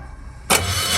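A generator's electric starter with a dead battery: silence, then a sudden loud whirring burst halfway through that holds steady to the end without the engine catching.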